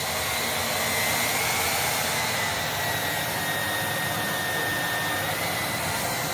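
VacLife vacuum cleaner running at maximum airflow suction with its relief ring fully closed, a steady, unbroken airy roar with a thin high whine, loud and close with no voices over it.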